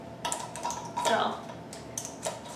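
Metal canning lids are twisted finger tight onto glass jars in a brief run of soft clicks and scrapes, close and fairly quiet, with a voice faintly underneath.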